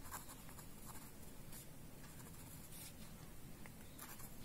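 Pen or pencil writing out a maths solution on paper for a class 7 exercise, a steady close scratching and rubbing that runs without a break, faint and alone.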